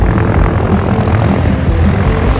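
A helicopter touching down with a smooth, controlled landing that slides along like ice skating, its rotor and engine roaring loud and steady throughout with a dense, continuous wash of noise.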